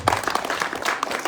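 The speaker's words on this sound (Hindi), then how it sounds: "तालियां इनके लिए" Audience applause at an annual function, a dense burst of many hands clapping at close range, brief and lively.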